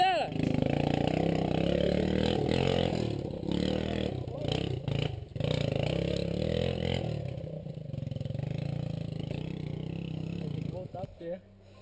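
A motorcycle revs and accelerates along a red-mud dirt trail, its engine loud and close throughout, droning steadily with rising and falling throttle as it pulls away, while people shout and talk over it.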